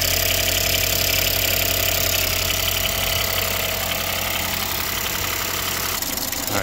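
A 2017 Ford Fusion engine idles after a high-pressure fuel pump replacement, a steady, close mechanical hum with a faint ticking texture, running alone and unchanged throughout.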